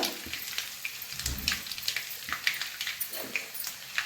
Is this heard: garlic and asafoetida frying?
yes